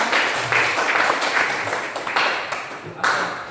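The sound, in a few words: applause, audience clapping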